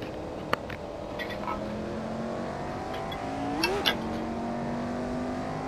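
A Lotus Type 25 racing car in Assetto Corsa holds a steady, droning engine tone with a brief rising rev and shift partway through, loud and continuous, with no voices.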